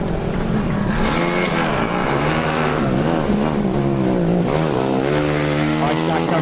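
A Formula Student race car runs the endurance event at FS Germany 2009, its engine droning past under continuous commentator talk.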